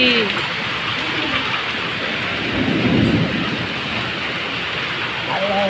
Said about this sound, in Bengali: বাহিরে বৃষ্টির শব্দ সাউন্ড শোনা যায় কিনা